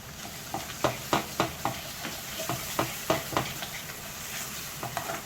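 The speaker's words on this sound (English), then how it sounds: "Saute this well." Masala sautéed with curd in a pan for paneer tikka gravy, a steady sizzle with a run of sharp spoon scrapes and taps against the pan, close and alone.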